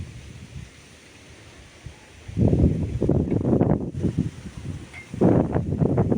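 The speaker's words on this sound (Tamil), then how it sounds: "மேலே காற்று அடிக்குது" Wind blowing outdoors, buffeting the microphone in irregular loud gusts after a quieter start, rough rumbling rushes that rise and fall with no talking.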